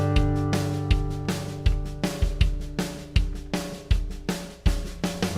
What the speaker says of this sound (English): what I want to do is just play it along with a little train beat backing track.